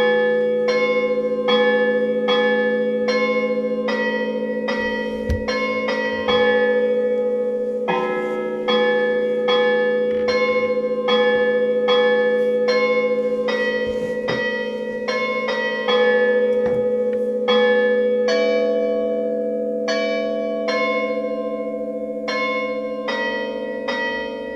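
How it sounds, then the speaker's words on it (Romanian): Bells in an automated church belfry in Ileanda ring in steady, resonant strikes over a sustained humming tone, close and loud, with no talking throughout. "un singur clopot care bate timp de 2 minute"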